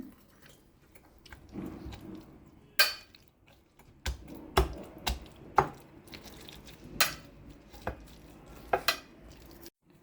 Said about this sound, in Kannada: ನೋಡಿ ಈಗ ಮ್ಯಾಶ್ ಮಾಡ್ತಾ ಇದ್ದೀನಿ